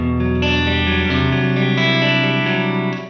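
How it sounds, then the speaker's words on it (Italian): A distorted electric guitar through a Two Notes Torpedo Cab M amp simulator with a room reverb effect rings out in loud sustained chords, the notes blooming into a short roomy tail that fades at the end. "questi sono dei riverberi che danno appunto questa sensazione di stanza"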